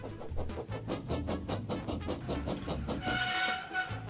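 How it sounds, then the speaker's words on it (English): A small narrow gauge model train engine runs along its track with a rhythmic clickety-clack of wheels over rail joints, steady and fairly close throughout. "Horace is a small red engine who works on a narrow gauge railway"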